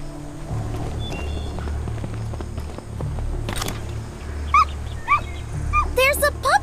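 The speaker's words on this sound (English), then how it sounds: "There's a puppy! Come here, little puppy." A puppy in the zombie-survival video game Doomsday: Last Survivors gives a few short, high whimpering yips late on, over steady game music, ambient rumble and footsteps.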